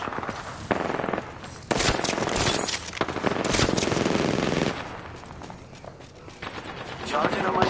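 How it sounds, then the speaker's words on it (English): Loud gunfire from the video game Apex Legends: dense bursts of automatic fire and shots in rapid succession, nearly continuous, with a player talking over the fighting. "They're shooting at me?"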